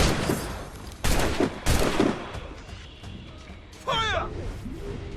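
Gunfire volleys from Assassin's Creed Rogue, a game battle: several loud, dense bursts of shots in quick succession, then a shouted voice and further firing under a steady backdrop of combat noise.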